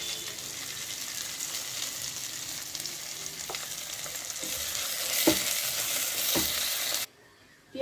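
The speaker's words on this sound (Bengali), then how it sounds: "এবার তো দেবো আমি পেঁয়াজ কুচি।" Chopped onions fry in hot oil with whole garam masala, cumin seeds and dried red chillies, a loud steady sizzle broken by a few sharp stirring scrapes before it cuts out near the end.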